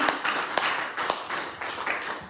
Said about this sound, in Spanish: Denle un aplauso fuerte al Señor en esta noche.